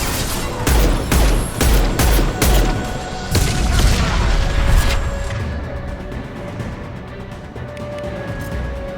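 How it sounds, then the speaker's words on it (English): Heavy gunfire in Mass Effect 2: loud overlapping bursts and booms for about four seconds, then fading into a lingering rumble and echo. "Taking heavy fire."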